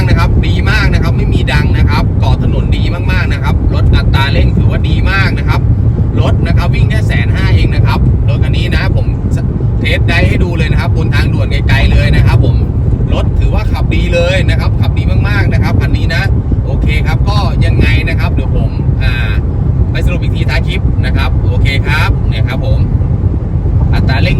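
A Toyota Vios with a manual gearbox drives along, giving a steady engine and road rumble with cabin noise throughout, while someone talks continuously over it.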